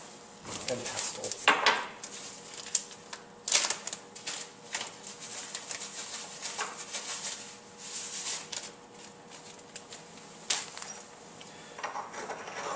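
Salt crushed in a mortar and pestle: irregular gritty scrapes and sharp ceramic clicks and taps, close and fairly quiet, in uneven bursts.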